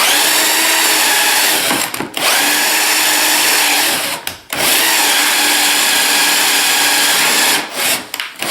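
A power drill bores a hole through laminate on an MFT-style work table, a loud high whine running steadily with two brief pauses between bursts.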